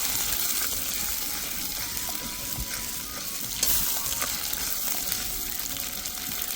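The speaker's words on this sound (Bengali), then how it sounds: "এবার একটু নেড়ে নেব।" Ground spice paste for a rohu (rui) fish curry stirred and fried in a pan: steady close sizzle with scraping spatula strokes throughout, one louder scrape partway through, no talk.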